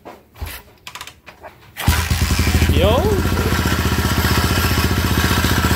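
A TMX155 motorcycle engine cranks and catches after a few seconds following an overhaul, then settles into a steady, loud idle with a rhythmic, noisy, vibrating exhaust throb; a short shout is heard beforehand.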